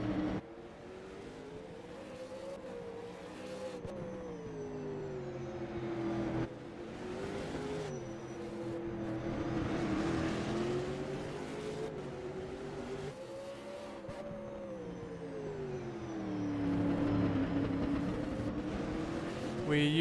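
A V8 Supercar race engine in a sim racing game at the Gold Coast street circuit, droning steadily with rising and falling pitch through gear changes and corners, loud and continuous, with brief drops on upshifts and a voice talking faintly underneath.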